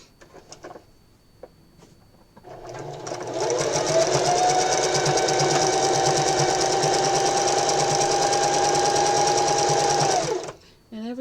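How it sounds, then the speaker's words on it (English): A sewing machine runs a straight-stitch seam down a pant leg from crotch to hem, a steady fast whirring chatter lasting about eight seconds after a few quiet handling noises, then stopping abruptly. "sew from the crotch area here all the way down the pant leg to the hem"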